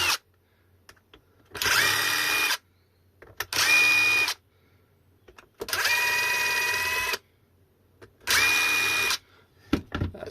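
Power screwdriver undoing five screws on the end plate of a Cyclotricity rack-mounted e-bike battery: four loud whirring bursts of about a second each, separated by short quiet pauses, close up with no talk.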